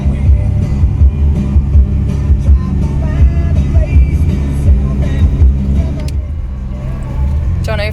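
A car driving along winding roads gives a steady, close engine drone from inside the cabin, rising and falling slightly as it moves, with faint talk underneath.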